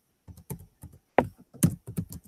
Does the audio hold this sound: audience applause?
no